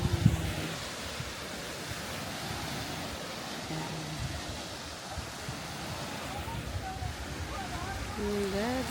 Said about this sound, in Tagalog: Ayun yung dagat.